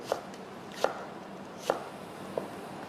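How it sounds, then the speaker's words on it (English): A knife cuts raw chicken into strips on a chopping board, four crisp, evenly spaced taps over a quiet background. "First you slice it, then you cut into strip."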